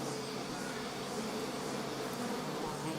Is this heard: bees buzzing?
yes